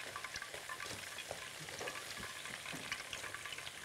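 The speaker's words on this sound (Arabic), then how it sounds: "نبدا بقى نقلب الخلطه كده" A spiced chicken fillet mixture fries quietly in a pan, a faint steady sizzle broken by soft, repeated scraping strokes as it is turned and stirred.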